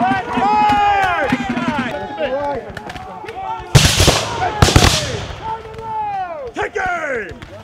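Musket volleys crack out at a Revolutionary War re-enactment of the Battle of Monmouth, with two loud, broad blasts close together amid shouting voices and crowd noise throughout.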